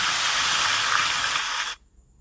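Pieces of silver carp frying in hot oil in a pan, a loud steady hiss of sizzling and spattering that cuts off abruptly near the end, with no voices.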